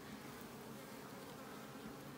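A steady, soft drone of honeybees buzzing continuously close by at a beehive's honey supers, with no talking and no pauses.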